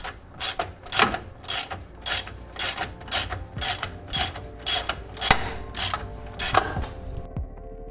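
Ratchet clicking in rapid regular bursts while a bracket is tightened on a Nissan 350Z welded differential with solid mount bushings and a diff brace, close and loud with no talking.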